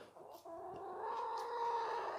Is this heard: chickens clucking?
yes